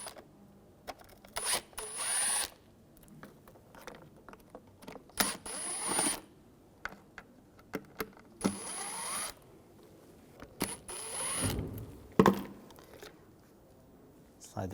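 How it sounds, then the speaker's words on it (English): A T20 socket works loose the valve cover screws on a 2004-2009 Audi A4 Quattro 2.0L four-cylinder, giving bursts of close ratcheting and scraping metal clicks separated by pauses and handling noises. "Take these screws out."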